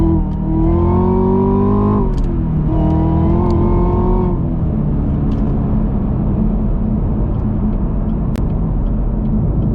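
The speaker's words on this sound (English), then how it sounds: "Nothing but wheel spin, man. It's too cold, especially for these tires I got on, these Nittos." Car on cold Nitto tires breaking traction, heard as a loud revving engine with two rising bursts that drop off, then a sustained harsh rumble and roar of wheel spin close by.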